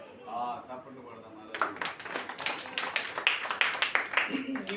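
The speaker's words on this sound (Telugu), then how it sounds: "చప్పట్లు కొడదాం." A crowd claps at a church gathering in Mannavarappadu, Nellore district. The clapping starts about a third of the way in and keeps going as a steady, fairly loud patter to the end, with an earlier stretch of speech before it.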